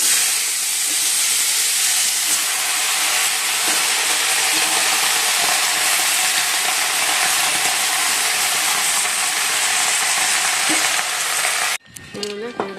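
Greens drop into a kadai of hot oil tempered with five-spice (panch phoron) and burst into a loud, steady roaring sizzle with hissing steam, which cuts off abruptly near the end into quieter clatter.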